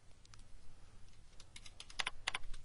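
Quiet keystrokes on a computer keyboard, a short run of light taps that grows denser and sharper toward the end.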